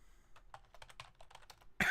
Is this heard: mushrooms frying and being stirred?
no